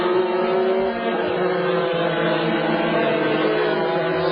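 GT race cars scream past at the Hungaroring circuit in a dense, continuous roar of high-revving engines, loud and steady throughout, with no pause or voice.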